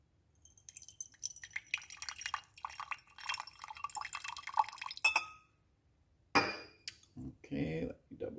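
Liquid, a sodium carbonate solution or cabbage juice, is measured out to 50 millilitres in lab glassware, giving a run of trickling drips and light glassy clinks, a pause, then louder pouring and knocking close by.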